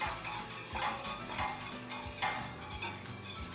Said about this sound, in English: You're just going to go ahead and start whisking